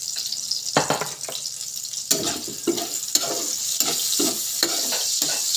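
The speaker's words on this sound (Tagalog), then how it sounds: "Whisk egg, scrambled egg." Scrambled eggs whisked and cooked for a quick morning breakfast, giving a close sizzle broken by sharp utensil taps and scraping strokes at an uneven rhythm. No voices are present.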